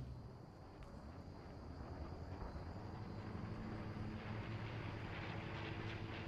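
An airplane drones steadily overhead in the video game Fortnite, a low rumbling engine hum that swells slightly louder as it passes, with no voices.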